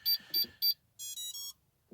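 Three short electronic beeps in quick succession from the ESC of a Fly Wing 450L RC helicopter arming, then a pause and a longer two-part tonal chirp, crisp and close in a quiet room.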